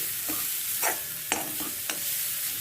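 Grated coconut roasting in a pan for a modak filling, with a few soft scraping stir strokes over a faint steady sizzle, close and fairly quiet.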